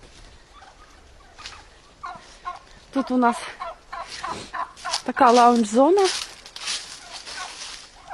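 Domestic turkeys, toms and hens grazing in a late-autumn village yard, let out two loud rattling gobbles close by, with someone talking softly around them.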